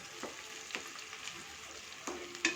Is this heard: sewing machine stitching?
no